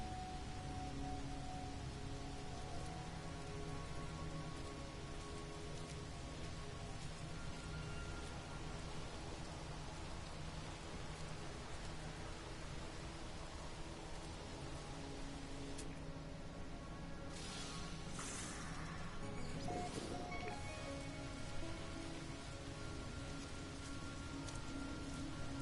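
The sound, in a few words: rain on a planet in video game No Man's Sky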